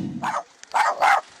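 A dog shut inside a car parked outside a movie theater on a hot day barks in short, close bursts, about three yaps with brief gaps between them.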